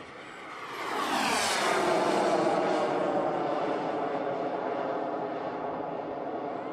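Turbine-powered RC model of a Messerschmitt Me 262 jet flying at a noontime airshow, a loud sustained whine that swells as it passes close overhead with a sweeping pitch shift, then holds steady as it moves off.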